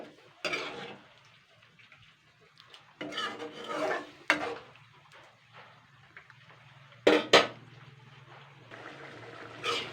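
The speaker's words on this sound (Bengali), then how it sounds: "এটাকে আমি জাস্ট নাড়াচাড়া করে আমি আরও 2-3 মিনিট ফুটিয়ে নেব হাই হিটে" A spoon stirs chana dal with coconut and potato in a cooking pot over high heat, giving several separate scraping, rasping bursts with quiet pauses between them, close by and moderately loud, with no talking.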